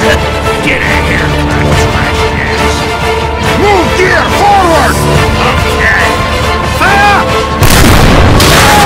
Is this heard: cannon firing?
yes